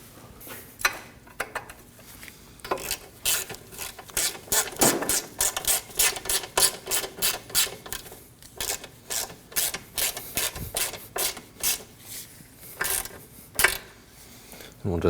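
A ratchet clicks in a steady, repeated rhythm of short close strokes, tightening the nut on a 2003-2006 Subaru Baja front wheel hub during a bearing replacement.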